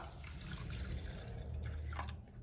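Faint cold water splashes and trickles into a pot with quinoa, a soft, continuous pour with light drips near the end.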